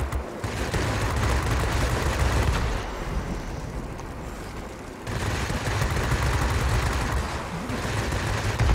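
Sustained rapid cannon fire from a Spitfire V fighter in World of Warplanes roars in long dense bursts with a brief drop in between, loud and continuous over engine noise.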